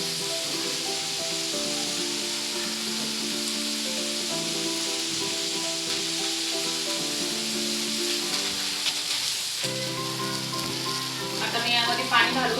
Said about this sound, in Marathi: आता माझा मसाला हा झालाय मस्त छान फ्राय पण झालाय आणि शिजला पण आहे।